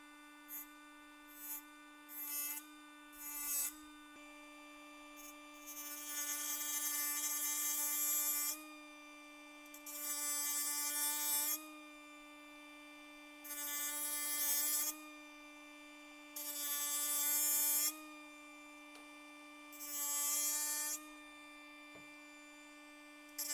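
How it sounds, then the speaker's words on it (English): A small electric cutting wheel scribes a line around a metal transmission cooler line on a Jaguar XJS V12, running in repeated high whining bursts of a few seconds each with short pauses, over a steady mains hum. "You're going to want to make your scribe line with the cutting wheel all the way across."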